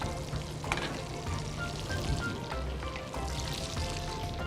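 Venison frying in a pan while being basted, a dense continuous sizzle with crackles and spoon scrapes, close and steady, at an outdoor county show kitchen, with no speech.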